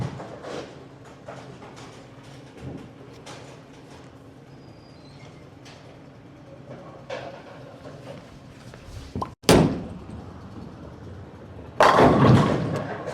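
A bowling ball rolls down a lane with a low rumble for several seconds, then strikes pins in a sudden loud crash near the middle. A second loud clatter of pins follows near the end, heard alone without talk.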